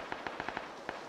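Gunshots ring out in a video game as a quick run of about eight faint, distant cracks, fired at an uneven, rapid pace.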